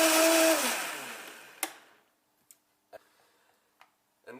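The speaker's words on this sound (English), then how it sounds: "we're ready to blend. Remember to start off low and then move to high for longevity of the blender" A blender whirs loudly as it blends a green smoothie with coconut powder, the motor fading and stopping, followed by a few scattered clicks and taps in near silence.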